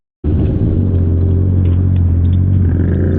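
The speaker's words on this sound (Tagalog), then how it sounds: "Napakaingay namin sa intercom yung mga muffler namin rinig sa intercom." Loud motorcycle mufflers rumble through a helmet intercom on a group breakfast ride to Awari Bay in Anilao, cutting in abruptly and holding a steady, heavy low drone.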